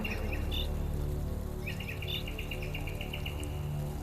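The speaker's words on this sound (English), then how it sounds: "The sound of the birds chirping, the leaves whispering, and the bees buzzing." Birds chirp in repeated short bursts over a steady bed of buzzing insects in a springtime outdoor setting, fairly close and continuous, with no voices.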